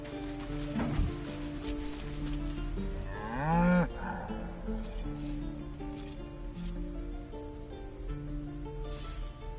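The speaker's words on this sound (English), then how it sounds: "Moo!" A cow in a video game lets out one loud, drawn-out moo with a wavering, rising pitch partway through. Quieter thumps and rustles from the game come before and after it.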